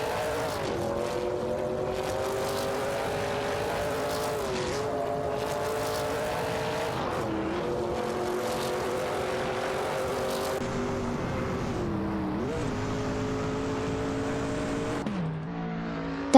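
Race cars in an AI-driven racing video game roar past, their engine notes droning steadily and dropping in pitch as cars shift and pass, continuous and fairly faint with no talking.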